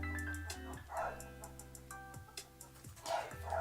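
Dog barking faintly in the background, low-pitched yelps and woofs mixed under music or other sound, with what seems like two separate barks at moderate distance.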